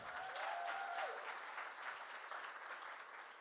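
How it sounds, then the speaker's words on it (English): A panel audience at a Los Angeles community event claps for a departing guest, steady applause heard faint and somewhat distant, holding evenly for a few seconds. "so big round of applause for Lisa again."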